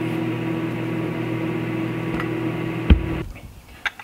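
A microwave oven remelting plastic fishing bait material hums steadily and loudly, then gives a sharp click near the end as it stops, leaving a fading hum and another small tick.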